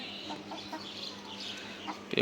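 Chickens clucking softly while eating leaves, short scattered clucks in a steady background, fairly close and moderately quiet.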